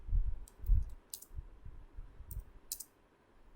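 Typing on a computer keyboard during a software setup, with scattered light key clicks in short bursts over soft low thumps and quiet background.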